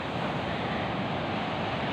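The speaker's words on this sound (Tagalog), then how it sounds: "malalaki po yung alon ngayon" Large ocean waves at Patar Beach, Bolinao, a steady broad roar of surf with wind buffeting the microphone.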